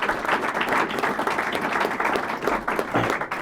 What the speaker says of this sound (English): Yes, give them a big round of applause.